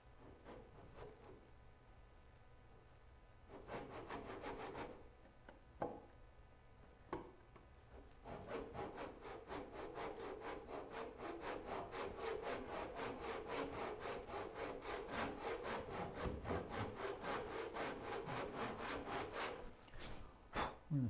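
Hand saw cutting starter kerfs in wood for a Moxon vise, a few short tentative strokes and then a long run of steady rhythmic rasping back-and-forth strokes, close and fairly quiet, no talking.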